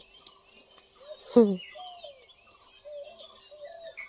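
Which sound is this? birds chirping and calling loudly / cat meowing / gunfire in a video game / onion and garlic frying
birds chirping and calling loudly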